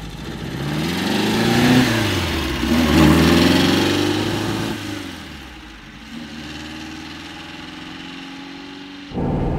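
A 1958 Porsche 356 A with a 1600 engine rated at 135 PS revs hard while driving. The engine note climbs and drops through gear changes, eases to a lower drone, then surges again near the end, with no talk.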